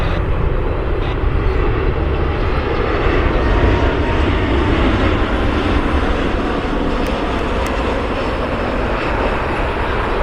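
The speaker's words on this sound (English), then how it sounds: "Southwest Flight 576, it's a 737 MAX inbound from BWI." A Southwest Boeing 737 MAX jet flying inbound to Cleveland Hopkins International Airport, its engines producing a loud, steady, close roar that holds without a break and drowns out other sound.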